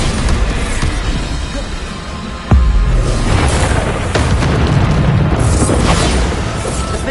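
The Bombarda exploding spell in the Hogwarts Legacy video game lands as a sudden loud boom, followed by rumbling, crashing debris and a dense, noisy battle wash that continues throughout.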